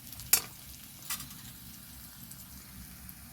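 Onions stirred and fried in a pan for a Bengali fish curry with potatoes, a soft steady sizzle with a couple of brief scraping clicks from the spoon, fairly faint and without talk.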